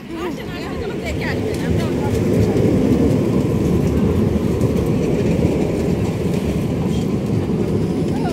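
A number 8 tram rolls along its tracks in Belgium. A loud rumble builds within the first couple of seconds, then continues with rattling wheel noise while voices talk over it.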